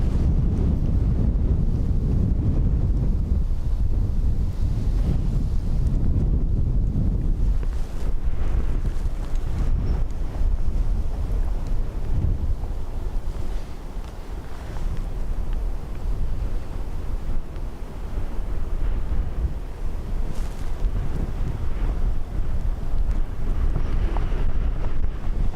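Strong wind gusting at Dublin Airport, a loud, steady roar of buffeting across the microphone with deep rumbling surges that ease briefly midway, then build again, no voices heard.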